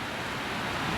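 Flood water on the Wisconsin River rushes through a wide-open dam, a loud, steady broadband roar close by with no break.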